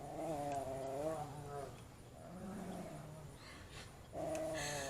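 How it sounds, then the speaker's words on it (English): A dog whines and yowls in drawn-out, wavering cries, three separate bursts close by, with short pauses between them. "I apologize for the dog noises in the background."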